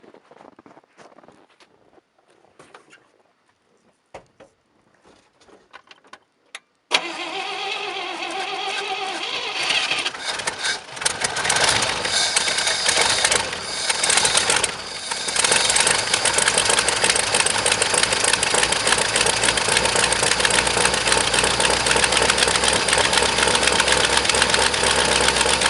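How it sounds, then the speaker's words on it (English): A 1967 International 4x4 truck engine cold-starts after quiet shuffling, catching abruptly and settling into a loud, steady idle with a rough, knocking undertone that runs on continuously, close by. "this thing cold starts like a dream"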